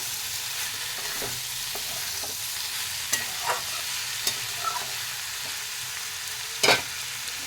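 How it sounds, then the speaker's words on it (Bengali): Fried eggplant, potato and prawns are stirred together in a pan, with a steady sizzle of frying underneath and a few scattered scrapes and clatters of the spoon, one louder knock near the end. "ওপর থেকে বেগুনগুলো দিয়ে দেবো ভেজে রাখা, দিয়ে সবগুলোকে নাড়িয়ে নেব।"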